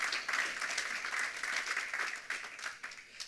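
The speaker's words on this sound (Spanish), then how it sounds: "Den un aplauso al Señor." Congregation applause during a church sermon, a sustained, dense wash of clapping from a sizable crowd that holds steady for several seconds before thinning slightly at the end.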